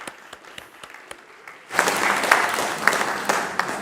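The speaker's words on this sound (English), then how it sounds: "Let's give him one more applause" A congregation at a Sunday service claps, first a few sparse, distinct hand claps, then it swells into fuller, denser applause for the second half.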